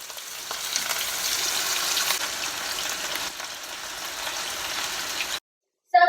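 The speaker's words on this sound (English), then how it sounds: "add the onions and potatoes and saute it for 2 minutes" Onions and potatoes sauté in oil with cumin seeds for aloo gobi curry, giving a loud, continuous close sizzle that ends abruptly, followed by a brief faint sound.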